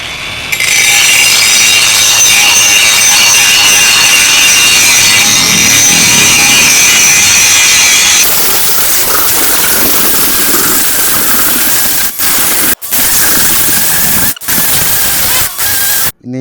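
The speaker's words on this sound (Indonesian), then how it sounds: "Kita coba guys ya untuk menggerinda nih bekas pengelasan." A DongCheng DCSM08-125 cordless 5-inch angle grinder grinds down a weld seam with a loud, continuous, close-up whine that shifts in tone partway through, then breaks into a few brief stops near the end.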